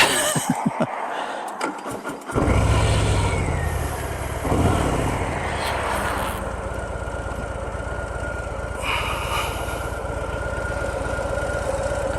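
A 2025 Harley-Davidson Fat Boy cranks over and catches with a loud, close roar, then settles into a steady, throbbing idle that runs without a break to the end.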